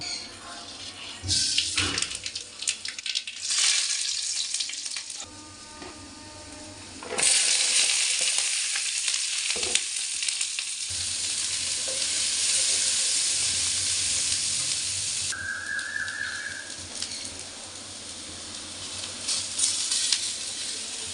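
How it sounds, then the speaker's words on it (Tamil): Beetroot stir-fry with onion, chilli and coconut frying in a pan, loud hissing sizzle that stops and restarts in bursts, with stirring scrapes and a brief tap of running water. "எல்லாத்தையும் சேர்த்து போட்டு நம்ம பீட்ரூட் பொரியல் பண்ணலாம்"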